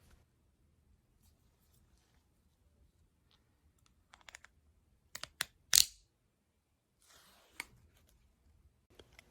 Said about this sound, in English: insert it into the gray ratchet mechanism until you hear about 3 to 5 clicks